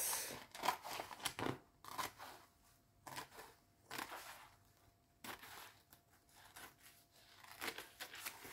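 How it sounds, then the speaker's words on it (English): Scissors trim excess paper from coffee-dyed paper for letter writing, giving a series of quiet, crisp snips spaced irregularly, with short gaps between cuts. "I take my scissors. And I cut away the excess."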